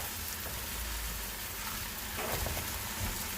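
Soaked basmati rice tumbling into a hot pot for Karnataka-style yellow rice, giving a steady close sizzle and rain-like hiss that swells briefly near the end.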